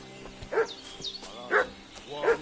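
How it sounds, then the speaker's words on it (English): A dog barking in the Kingdom Come: Deliverance II video game, three separate barks about a second apart at moderate distance, with faint game ambience between them. "What's that dog making such a fuss about?"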